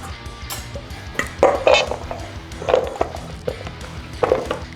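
A knife cuts a cucumber into thin rounds on a board, making a few irregular clear chops and knocks at close range, with quiet gaps between strokes.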